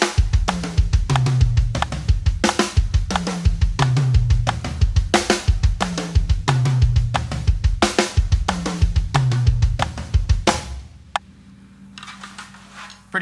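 A drum kit plays a two-hands, two-feet double-pedal pattern, with bursts of kick and snare repeating in a tight, driving rhythm over a click track. The playing is loud and close, then stops, leaving a faint ring.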